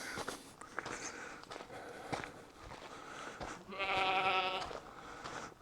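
Goat at Petra in Jordan gives a loud, drawn-out quavering bleat near the end, close by, after footsteps and rustling on a rocky path.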